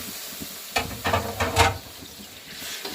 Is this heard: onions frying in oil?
yes